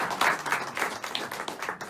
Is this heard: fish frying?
no